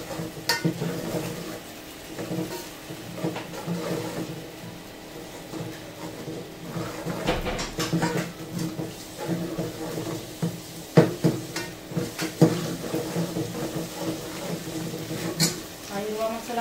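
Green masala ground with garam masala sizzles in hot oil in a pan as it gets its tempering and is stirred, with a steady frying hiss, scraping stirs and clinks of utensils throughout, and occasional voices nearby.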